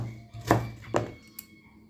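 A knife chopping a fresh onion on a board, heard as two distinct close thunks followed by a lighter tap in a quiet room.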